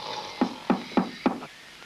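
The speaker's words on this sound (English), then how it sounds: "Then came the knocking at the door" Four sharp knocks on a wooden door in a steady, evenly spaced rhythm, close and fairly loud, with no voices over them.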